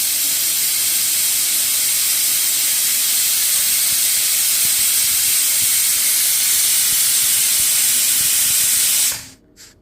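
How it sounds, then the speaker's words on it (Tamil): A pressure cooker with its weight on vents steam in a loud, continuous hiss that holds steady, then cuts off abruptly near the end. "மூடி போட்டு வெயிட் போட்டு 4 விசில் விட்டு எடுத்துக்கணும்."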